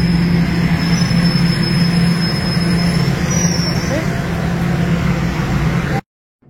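Underground train rumbling along with thin squealing wheels, loud and continuous, cutting off abruptly near the end.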